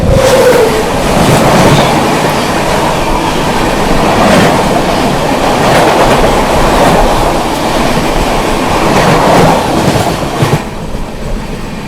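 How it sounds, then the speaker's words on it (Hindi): The 12034 New Delhi–Kanpur Shatabdi Express rushes past close by, loud and continuous, with rhythmic clickety-clack of wheels over rail joints and a steady rumble that fades slightly at the end. "सामने से आती हुई 12034 न्यू दिल्ली कानपुर शताब्दी एक्सप्रेस आती हुई।"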